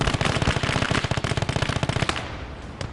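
Sustained automatic machine gun fire in a World War II combat video game set on the Eastern Front, dense rapid bursts with sharp cracks fading out near the end.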